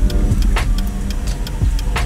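A loud car rumbles nearby in slow traffic, its engine noise steady under a series of sharp, rhythmic clicks.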